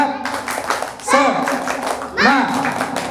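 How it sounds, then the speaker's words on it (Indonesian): Audience clapping in a steady rhythmic spirit clap during a lively Ramadan religious talk, close and fairly loud, with children's voices calling out over the hands. "Sekali lagi, tepuk semangat."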